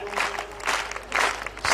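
Audience applause at a Hindi kavi sammelan poetry recital, a short burst of crowd clapping that swells and fades in waves, with voices mixed in underneath.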